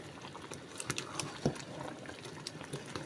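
Traditional soup thickened with achi or ofor simmering in a pot, a soft steady bubbling and liquid burble with scattered small pops, close and fairly quiet, no voices.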